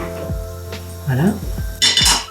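A utensil clinks and scrapes against a bowl while an anti-waste recipe mixture is stirred in a home kitchen, with a few sharp knocks and clatters, then a louder burst of scraping near the end.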